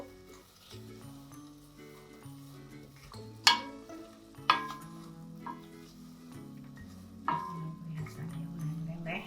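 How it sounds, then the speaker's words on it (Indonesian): Palm sugar melting in a pot as it is stirred for sarikaya jam, with a soft sizzle, a few sharp clinks of the spoon against the pot and quiet scraping, close by, with a voice faintly audible. "Kita aduk."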